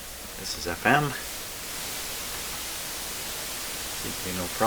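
Steady broadband FM inter-station hiss from the speaker of a Grundig Satellit 800 radio with a broken volume control, continuous and even throughout, with a few brief spoken words near the start and end.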